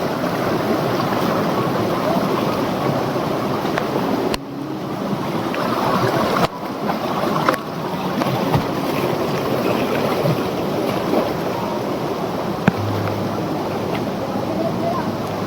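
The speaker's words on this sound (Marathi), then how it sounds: "पाण्याचा प्रभाव बघा मित्रांनो. पाणी बघा." A rain-swollen river in dense forest at night roars with loud, continuous rushing water, broken by a couple of brief knocks, with no clear talk.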